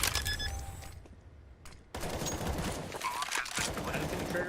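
Gunfire from a Counter-Strike match on the Vertigo map comes in bursts, a rapid volley, then a short gap and a sharp crack before heavy firing resumes, with a faint voice underneath.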